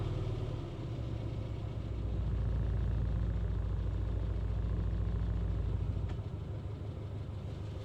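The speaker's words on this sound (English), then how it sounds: "It's pretty much off choke now, just on the fast idle, just ticking over lovely." An Austin A40 Farina's A-series engine ticks over on fast idle with the choke nearly off, a steady, close mechanical idle with a low, even throb and no talk over it.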